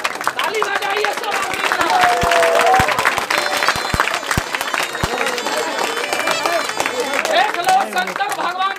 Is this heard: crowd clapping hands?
yes